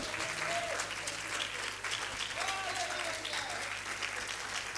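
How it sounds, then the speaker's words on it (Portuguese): Church congregation applauding at a women's conference, a steady wash of clapping that holds at an even level throughout, with faint background voices mixed in. "dá uma salva de palmas ao Senhor pela vitória de Deus na tua vida"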